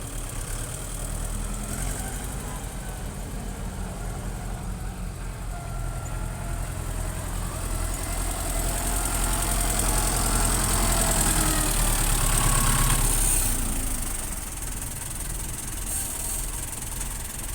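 A Kobelco ZX130 excavator engine runs on a muddy work site with an odd hissing, steamy noise over its steady rumble, swelling louder midway before easing back.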